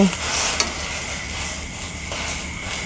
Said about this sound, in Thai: บัดนี้ก็ใส่เห็ดปวกลงไปเลยจ้า